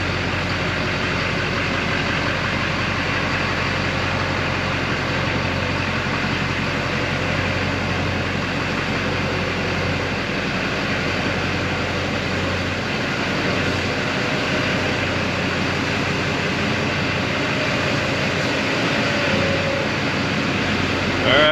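An LB7 Duramax diesel crew cab long-bed truck backing out drones with a steady, unbroken engine rumble for the whole stretch, loud and even throughout.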